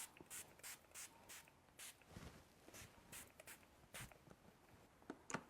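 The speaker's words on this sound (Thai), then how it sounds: "พอแต่งหน้าเสร็จปุ๊บสีสเปรย์เมคอัพ" Several short, quiet hissing spritzes of makeup setting spray, spaced irregularly, with faint rustling between them.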